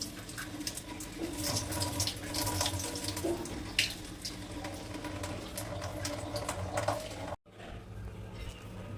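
Soaked rice starch water being slowly poured off into a sink, a steady close splashing trickle running without a break for most of the clip, then cutting off abruptly near the end to a quieter hiss.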